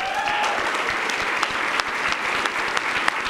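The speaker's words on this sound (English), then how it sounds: "give a round of applause for the class 51 of the Newark Fire Division" An audience at the Newark Fire Division's class 51 recruit graduation ceremony claps loudly and steadily, a dense, sustained round of applause filling the hall.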